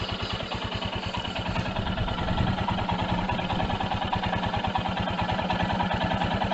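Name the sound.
Royal Enfield Himalayan BS6 motorcycle engine idling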